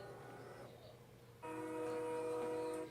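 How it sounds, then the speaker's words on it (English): A recorded train passing, with a steady low rumble joined midway by a loud sustained multi-tone horn blast that holds to the end, heard faintly as if played back. "He posted some sounds of some trains."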